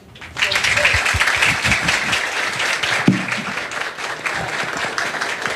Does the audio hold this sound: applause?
yes